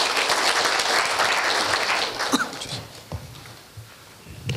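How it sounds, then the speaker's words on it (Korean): A Seoul Campus Town event audience at Korea University welcomes a speaker with applause, a dense burst of clapping that fades over about three seconds to scattered claps and light rustling. "큰 박수로 맞이해 주시기 바랍니다"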